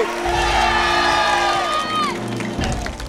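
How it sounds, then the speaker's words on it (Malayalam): A night-time crowd of Idukki locals at an outdoor TV game show cheers and claps in a dense, continuous roar, with raised voices calling out over it. "അവർക്കൊരു വലിയ കയ്യടി"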